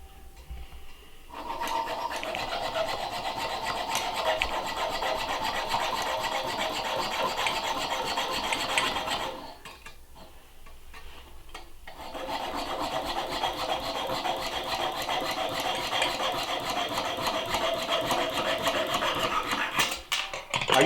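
Toilet flange bolts are cut down to length with a steady, harsh rasping stroke, close and continuous for several seconds, pausing briefly midway, then resuming for another long stretch.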